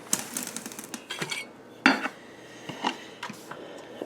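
Stand mixer whisk attachment working warm water, sugar, yeast and flour into a slurry, heard as light clinks and taps of metal against the bowl in uneven bursts with one louder clatter, close by.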